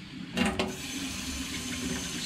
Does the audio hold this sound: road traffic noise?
no